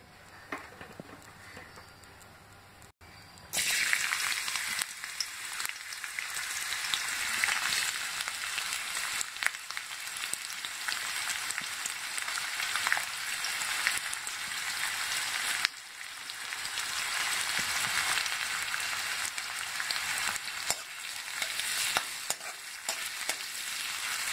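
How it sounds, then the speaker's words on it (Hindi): Sliced onions for a vegetable dum biryani deep-fry in hot oil with a steady, close sizzle and crackle. The frying starts after a brief quiet moment and continues unbroken throughout. "आधे प्याज मैं इसमें डाल के फ्राई डीप फ्राई करके निकाल लूंगी"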